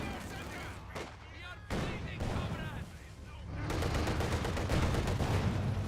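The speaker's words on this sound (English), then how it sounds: "Good shots there in the MG42." An MG42 machine gun in Company of Heroes 2 rattles out bursts of rapid fire amid battle noise, with a commentator talking over the shooting throughout.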